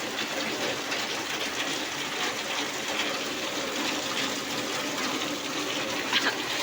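Rain falling steadily as a continuous soft wash of water, even and moderately quiet throughout, with a faint splash near the end.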